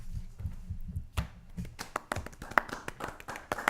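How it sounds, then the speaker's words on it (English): Light, polite golf clap from a small group, a scattering of soft, uneven hand claps at low level with no talking. "Golf clap."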